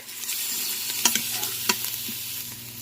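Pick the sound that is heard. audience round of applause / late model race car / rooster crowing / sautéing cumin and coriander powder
sautéing cumin and coriander powder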